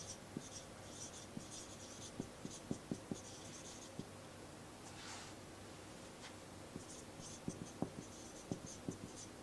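A teacher writes by hand during an English grammar lesson, producing faint, close scratching strokes and light irregular taps of pen or chalk against a quiet background.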